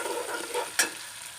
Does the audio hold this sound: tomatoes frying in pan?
yes